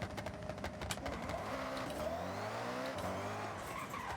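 A Koenigsegg One:1 launching hard in a video game, with a loud engine rising through the revs alongside tire squeal, sounding close and sustained with no voices.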